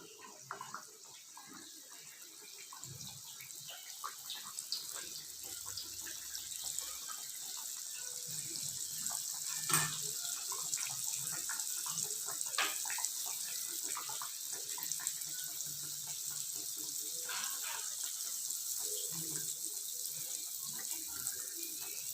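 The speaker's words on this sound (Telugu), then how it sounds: "ఇలా చేసి పెట్టుకున్న అరిసెలని ఇలా కాగిన నూనెలోకి ఒకటొకటిగా వేసేసుకుందాం." Ghee arisalu, Sankranti rice sweets, are dropped one by one into hot oil and fry with a continuous soft sizzle and hiss, punctuated by occasional crackles.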